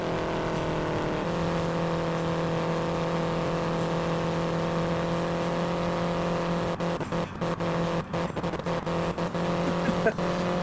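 Race car engine in the Indianapolis 500 Evolution video game, a steady droning hum that begins stuttering and cutting out in rapid skips toward the end, with a voice talking over it.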